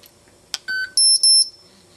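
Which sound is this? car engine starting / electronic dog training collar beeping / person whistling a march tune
electronic dog training collar beeping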